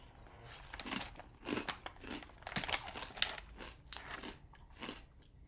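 Crunch Master Bistro Crisps crackers being bitten and chewed close up, with repeated crisp crunches in an irregular rhythm across several bites, quiet but distinct against a still room.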